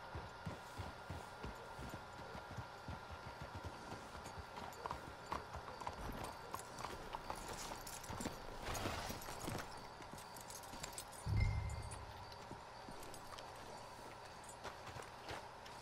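Horse hooves clip-clop at a steady walking pace over a low ambient hum in the video game Red Dead Redemption 2, with a brief louder thump partway through.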